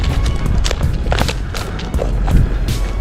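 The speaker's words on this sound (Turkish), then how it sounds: "Dizginler elimizde çektik mi at yavaşlıyor." A horse's hooves clop in a steady, close rhythm over a loud, rumbling background, like a ride heard up close.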